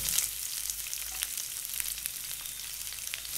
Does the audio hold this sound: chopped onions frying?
yes